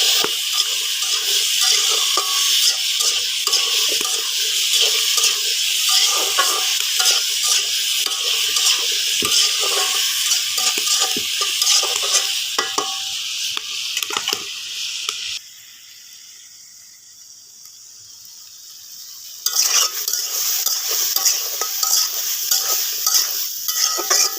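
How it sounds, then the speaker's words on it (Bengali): Vegetables fry in a pan for a home vegetable recipe, with a steady loud sizzle and scraping stirs. The sizzle drops away briefly near the end, then returns at full strength. "সবজিগুলো ভালো করে ভেজে নেব।"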